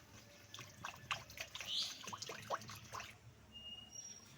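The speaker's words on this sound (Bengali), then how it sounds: "এবার দিয়ে দিচ্ছি পরিমাণ মতো জল।" Water poured into a pan of mustard-based tilapia and eggplant curry being cooked in a rural kitchen; a short, gurgling splash and trickle of a few seconds over low background noise, then quiet.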